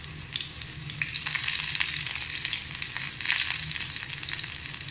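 Chopped shallots and curry leaves fry in coconut oil with a steady, moderate crackling sizzle, slightly fluctuating and close, with no one talking.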